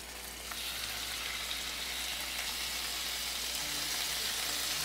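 A second batch of meat sears in a hot frying pan, giving a continuous bright sizzle with a faint low hum beneath, steady and close throughout.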